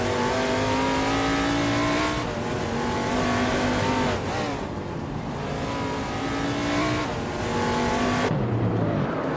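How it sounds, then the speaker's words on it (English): Vintage NASCAR race cars roar around a tight street circuit in a racing video game, engines loud and close with rising and falling revs through shifts and corners, no voices over the steady engine noise. "The vintage NASCAR cars are holding up well on this street circuit"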